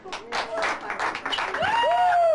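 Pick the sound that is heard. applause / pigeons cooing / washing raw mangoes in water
applause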